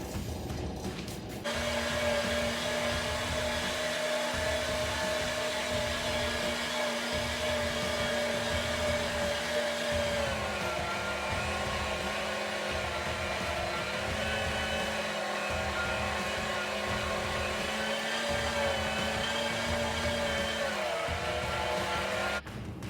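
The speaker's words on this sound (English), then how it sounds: "So we're going to get this meat ground up and we'll bring it back." An electric meat grinder runs steadily for over twenty seconds, a loud continuous motor whine that dips slightly in pitch as meat is fed through, with no talking.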